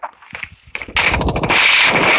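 Rapid automatic gunfire in the mobile shooter Standoff 2: scattered shots at first, then a dense, loud, continuous burst of rattling fire for the second half.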